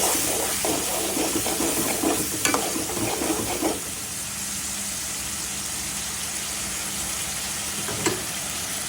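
Garlic and ginger paste fries in a pan while cooking taro leaves in a Bengali style, with a loud continuous sizzle. Close stirring scrapes sound over the first few seconds, then the sizzle carries on steadily.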